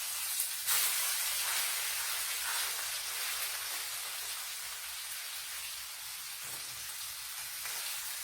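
Liver sizzles steadily in a pan, a continuous bright hiss and crackle at moderate volume with no voices.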